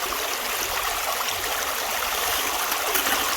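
A creek flows steadily over a gold prospecting spot, a continuous broadband rush and trickle of water that stays even and close throughout, with no voices.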